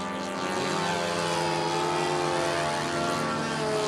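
A radio-controlled model airplane drones steadily overhead at a model aircraft flying event, a continuous buzzing engine tone holding fairly loud and even throughout.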